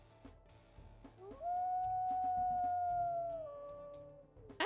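A high-pitched wolf howl from the game WolfQuest rises quickly into a long, steady tone, then tapers and drops away, a single clear call with nothing else over it.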